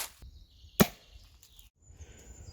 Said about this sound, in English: This is what it sounds like with the suppressor at the end of the gun.